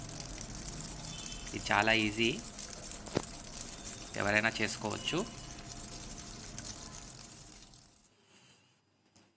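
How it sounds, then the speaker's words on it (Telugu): Tap water running steadily into a washing machine after a slow-filling repair; a soft, continuous rushing hiss under a man's speech, stopping abruptly near the end. "ఇదిగోండి, వాటర్ బాగా వస్తున్నాయి."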